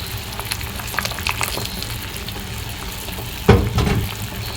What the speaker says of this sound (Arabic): كي غلى الماء توا كيما هكا باش نضيف زيت الزيتونه